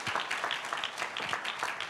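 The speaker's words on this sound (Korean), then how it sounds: "박수 한번 드리시죠." Applause from the audience at a Seoul international forum session, a fairly quiet, continuous patter of many hands clapping with no talk over it.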